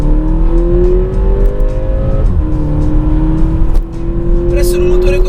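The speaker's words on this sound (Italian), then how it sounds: "scopriamolo mettendo subito la modalità sport e affondando sul pedale del gas" A 2019 Porsche Macan with a four-cylinder turbo petrol engine accelerates in sport mode, its engine note climbing steadily and loud, with a brief gear-change dip, as a person speaks over it.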